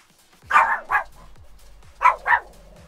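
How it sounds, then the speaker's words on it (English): Dogs in the video game Minecraft bark in two quick pairs of sharp, high yips, loud and close, with a soft repeated thumping underneath. "Jeez, everyone's barking today."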